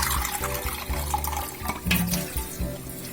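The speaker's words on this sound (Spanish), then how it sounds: "lo enjuagamos muy bien nuestro arroz para que ya no salga el agua blanquizca que sale" Tap water runs steadily into a bowl while rice is rinsed, a continuous close splashing flow with slight shifts as the grains are stirred.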